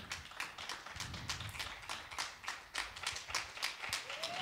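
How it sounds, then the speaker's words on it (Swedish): Audience clapping for a scholarship winner at an award ceremony, sustained applause with dense irregular claps and a few louder sharp hits, continuing steadily for several seconds without speech. "Och applådera, applådera,"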